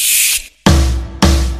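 Bear spray discharging from an aerosol can in loud hissing bursts: one long blast, a short gap, then two more strong sprays in quick succession, close and alone.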